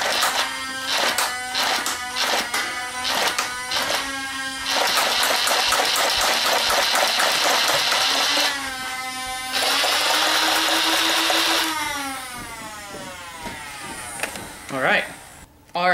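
A Nerf Rapid Strike CS-18 blaster fires darts at a wall indoors. Its flywheel motor spins up into a buzzing whir, joined by quick mechanical clacks of rapid bursts, with a few pauses between volleys, close and fairly loud.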